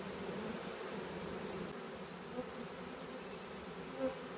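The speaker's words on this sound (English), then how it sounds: "Can you just see those bees fanning?" A steady, dense buzzing hum of many honeybees fanning during a spring swarm, continuous and fairly close, with a couple of brief louder passes near the end.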